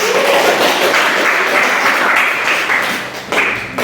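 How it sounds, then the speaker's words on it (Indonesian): Classroom applause for a student who has just presented a conclusion on colloids, dense and steady clapping from a group of students lasting several seconds and tapering slightly near the end. "Berikan aplaus"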